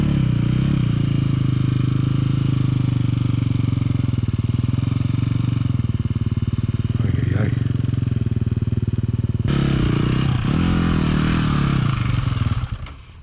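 A motorcycle engine runs during clutch, throttle and front-brake practice, holding a steady loud drone that shifts in tone partway through before cutting off at the end.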